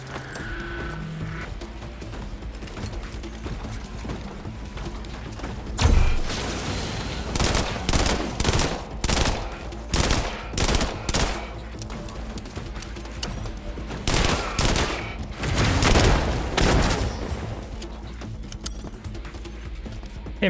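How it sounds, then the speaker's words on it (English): Dragon's Breath shotgun firing in System Shock (2023): a quiet stretch, then a series of loud, booming blasts in irregular bursts, some close together, with mechanical clatter between shots. "So we'll do the Dragon's Breath shotgun."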